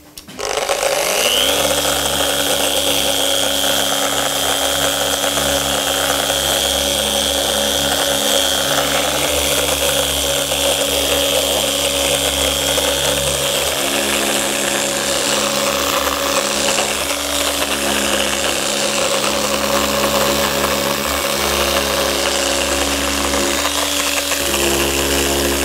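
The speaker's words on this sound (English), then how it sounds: "Right, finally, sanding." A power sander works an electric guitar body in the workshop, spinning up and then holding a loud, steady whine and hum for the whole stretch, close by with no talking.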